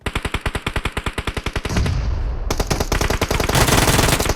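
Rapid automatic gunfire in PUBG Mobile, a long burst of evenly spaced loud shots, then a dense rush of overlapping fire and noise; no talking.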